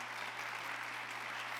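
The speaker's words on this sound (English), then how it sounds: "Big round of applause." Steady, dense clapping from an audience at the Scottsdale Forward 2022 event, a brief even burst with a low hum underneath and no voices.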